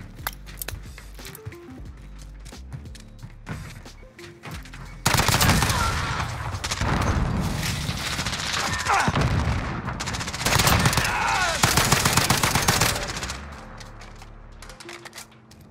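AS VAL rifle fire in a shooting video game: loud, dense bursts of rapid gunfire, some shots sharp and close, with intermittent game sounds in between.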